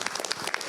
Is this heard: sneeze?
no